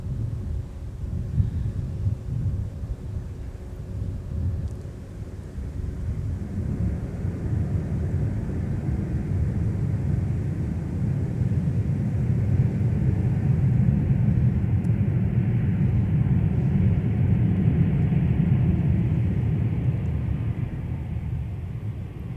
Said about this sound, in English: now gliding down on runway 30 left for an arrival